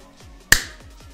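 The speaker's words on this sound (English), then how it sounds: "So I do, when I start recording, I clap." A single sharp hand clap, made to sync a recording of a PC game session, cracks out mid-clip and decays quickly in a quiet room.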